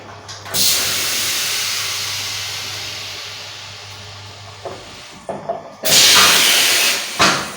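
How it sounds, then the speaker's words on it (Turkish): Cheese slicing machine cutting a stick tulum cheese block, giving a long loud hissing pneumatic rush, some brief clicks and clanks, then a second strong hissing burst. "İkinci bloğumuzu birinci bloğun üzerine koyarak dilimleme işlemine devam ediyoruz"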